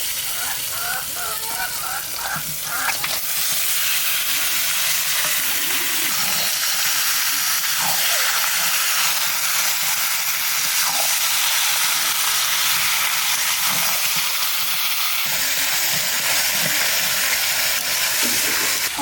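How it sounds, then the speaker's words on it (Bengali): Duck meat fries in an oily spice paste with whole garlic, giving a loud, steady sizzle and hiss with occasional stirring, continuous and close throughout. "মশলাগুলো একটু কষিয়ে নিলাম, এখন মাংস দিয়ে দেবো।"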